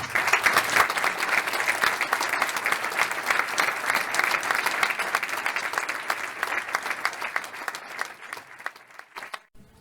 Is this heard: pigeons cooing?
no